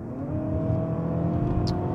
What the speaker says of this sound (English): when you pop it into sport mode, like I will do now,